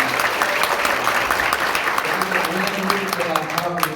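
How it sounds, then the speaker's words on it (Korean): A church congregation breaks into applause for the pastor and his wife, a crisp, rhythmic clapping from many hands with some voices mixed in underneath. "우리 박수 칩시다."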